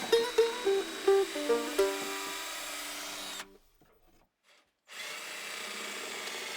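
A power drill bores a hole through the top of a wooden cabinet near the rear corner, its loud, close whine wavering in short bursts, then going quiet before the drilling resumes steadily.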